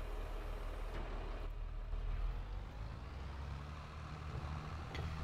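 Steady low diesel engine drone of a tractor pulling a cultivator in Farming Simulator 22 on an Italian map, with faint clanks and a slight rise in engine pitch partway through.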